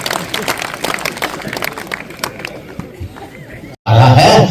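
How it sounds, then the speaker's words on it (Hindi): Audience clapping at a Hindi poets' gathering in Shikohabad, Firozabad, held on Mulayam Singh's birthday: a dense, steady patter of many hands for about four seconds, then a sudden loud, roaring burst at the end. "जोरदार तालियां बजाइए"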